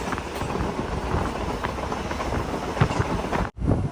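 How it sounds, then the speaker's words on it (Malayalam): A train rolling into Thanjavur railway station gives a continuous heavy rumble with scattered clacks of wheels over rail joints, ending in a brief drop and then a return of the noise. "തഞ്ചാവൂർ റെയിൽവേ സ്റ്റേഷനിലേക്ക് ഇതാ നമ്മുടെ ട്രെയിൻ എത്തിക്കൊണ്ടിരിക്കുക"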